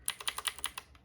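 Keys clack on a Skill Corp mechanical keyboard in a quick run of about seven or eight crisp, evenly spaced strokes, close and clear, trailing off at the end.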